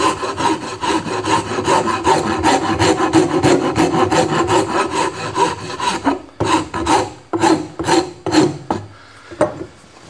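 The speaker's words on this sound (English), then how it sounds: "using the finer side of the file. So we have a rasp and we have a file." A metal file rasps steadily back and forth across a rounded wooden edge, quick rhythmic strokes close up that turn slower and more separated toward the end.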